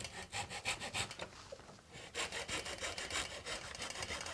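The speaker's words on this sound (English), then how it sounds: "Sawing. Sawing." Rhythmic back-and-forth rasping of a handsaw cutting through wood for dollhouse windows, steady strokes close up with a brief pause midway, no talking.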